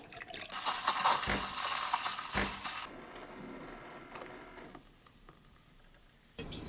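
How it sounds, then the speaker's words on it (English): Milk pours into a jug with a loud, splashy gush up front that thins to a softer trickle, then stops briefly before another short splash at the end. "Milk pouring in the jug"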